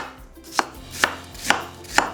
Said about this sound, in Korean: 믹서기에 쉽게 갈 수 있도록 잘게 썰어 준비해 주시고요.